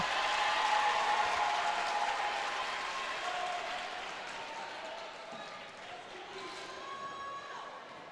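A crowd at a high school girls' basketball championship game applauds and cheers a made free throw, a loud burst of clapping that slowly fades while voices mix in.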